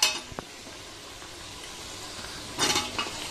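Onions sauté with salt in a pan for biryani, a faint, soft sizzle with a sharp utensil clink early on and a brighter burst of frying hiss and stirring near the end.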